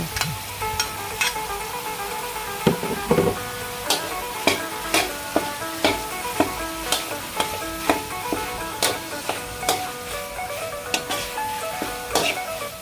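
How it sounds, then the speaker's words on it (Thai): Thai curry paste is stir-fried in a hot pan for an old-style banana-stem curry, with a steady sizzle under regular scraping strokes of a spatula about once a second. The sound is close and continuous, and no one speaks. "ให้นำพริกแกงลงไปผัดให้หอมค่ะ"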